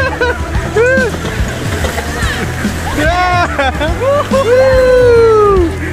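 Water splashes and sloshes around rafts during river rafting, with repeated splashes under excited shouting and cheering from the paddlers.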